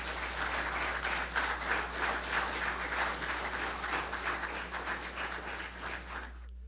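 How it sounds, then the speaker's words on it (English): Sustained applause from an audience at an event, steady dense clapping that fills the whole stretch, loud and close, with a low hum beneath it and no talking. "y'all give them a real round of applause"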